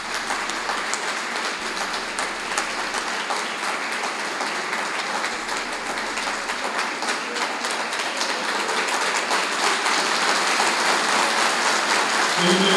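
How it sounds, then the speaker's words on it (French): Audience applause at a formal JCI induction ceremony in Senegal, with dense, steady clapping that swells slightly toward the end. "vos acclamations s'il vous plaît"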